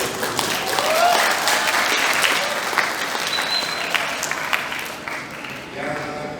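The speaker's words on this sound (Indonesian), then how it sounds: "Kita tepuk tangan, kita beri." Sustained audience applause at a career seminar in an auditorium, a steady wash of many hands clapping that gradually thins out toward the end.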